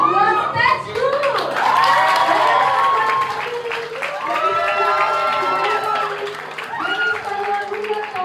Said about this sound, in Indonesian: Kasih tepuk tangan yang meriah buat stage dulu.